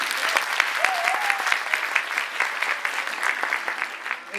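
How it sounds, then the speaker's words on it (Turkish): An audience at an indoor women's day event in Akhisar applauds steadily, a dense even clatter of many hands sustained throughout, with a faint voice under it. "Bu yüzden kocaman bir alkış rica edebilir miyiz?"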